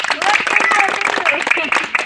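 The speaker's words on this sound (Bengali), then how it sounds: "সবাই একটা হাততালি দেও" Audience applause for the winners of a children's traditional game prize-giving, steady clapping sustained throughout under overlapping chatter and voices, fairly loud and close.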